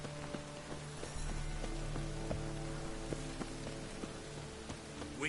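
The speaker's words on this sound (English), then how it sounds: "witches have conjured rain again" Rain falls in The Witcher 3 game world, a steady soft patter with faint hum and a few light knocks, moderately quiet and continuous, no speech.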